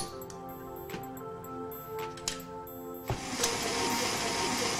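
A whisk attachment being fitted to a mixer for making ice cream, a few light mechanical clicks and ticks followed by a louder rushing, whirring noise that takes over for the final seconds.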